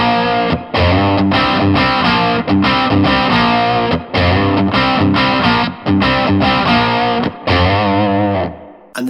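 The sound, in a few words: distorted electric guitar riff with double stops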